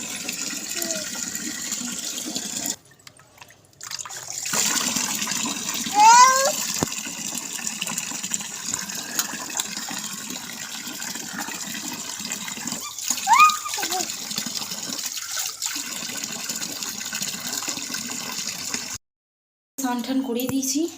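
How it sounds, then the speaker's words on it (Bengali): Water poured over a child at bath time, splashing and gushing in bursts from a mug or tap, with someone talking and a voice in between. "ঢালো ঢালো, গায়ে জল ঢালো।"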